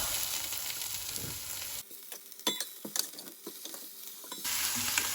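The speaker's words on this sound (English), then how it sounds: "you're going to add all your lamb shanks back into the pot" Lamb shanks going back into a hot pot set off a loud sizzle, then quieter crackling and spitting bursts of searing meat follow before the sizzle surges again.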